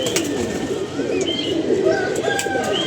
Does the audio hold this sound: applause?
no